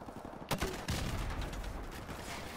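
Gunfire in the video game Call of Duty Modern Warfare, a loud sharp shot followed by a sustained dense burst of noisy firing and mechanical clatter.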